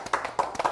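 A few brief hand claps from a small audience at a history talk, a quick irregular burst lasting under a second, fairly soft.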